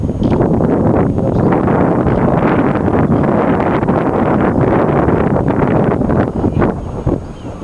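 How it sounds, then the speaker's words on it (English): Strong wind buffets the microphone outdoors during a photo shoot, a loud, continuous rushing roar that dips briefly toward the end. "Where's the wind come from?"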